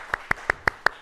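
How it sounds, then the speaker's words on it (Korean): A church congregation claps at the stroke of New Year during a watch-night service, five sharp, evenly spaced claps in unison, crisp and close with a brief reverberant ring. "박수 한번 치세요"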